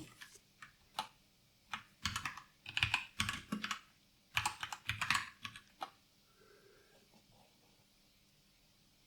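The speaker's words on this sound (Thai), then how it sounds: "แล้วเราก็พิมพ์" Typing on a computer keyboard while making a video intro in DaVinci Resolve 17: bursts of quick, close key clicks, clustered and irregular, then tapering off to a few isolated taps and quiet, with no talk.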